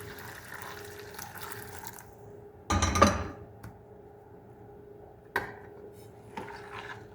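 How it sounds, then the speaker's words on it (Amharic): Hot water is poured over rice being washed in a pot, a short burst of splashing pouring near the start followed by quieter clinks and a brief second splash against a low background hum. "ትኩስ ውሃ ጨምርበታለሁ ማለት ነው።"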